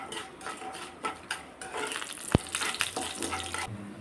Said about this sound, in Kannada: ಹಾಗೆ ಸ್ವಲ್ಪ ಉದ್ದಿನಬೇಳೆ, ಸ್ವಲ್ಪ ಕಡಲೆಬೇಳೆ, ಸ್ವಲ್ಪ ಕಡಲೆಕಾಯಿ ಬೀಜ ಸೇರಿಸ್ಬಿಟ್ಟು ಇದನ್ನು 1-2 ನಿಮಿಷ ಚೆನ್ನಾಗಿ ಫ್ರೈ ಮಾಡ್ಕೊಳ್ತೀನಿ.